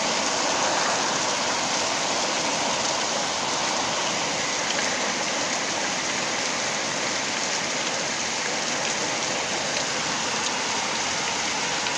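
Steady, dense rain pours down outdoors, a continuous even hiss of drops hitting surfaces that holds unchanged throughout, with no voices.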